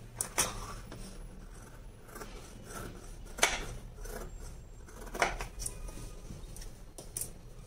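Scissors snipping through blouse fabric during tailoring, a few separate crisp cuts spread across several seconds, close and fairly quiet, with light rustling and handling noise between the snips.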